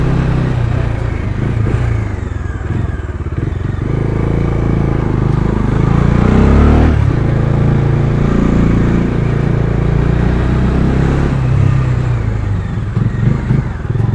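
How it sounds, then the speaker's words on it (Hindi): Bajaj Dominar 250 motorcycle with its stock exhaust at high speed on a road, a loud steady engine drone with wind rush that swells and eases slightly, close and continuous without talk. "भाई स्टॉक एग्जॉस्ट सुनो, ये इसका स्टॉक एग्जॉस्ट है"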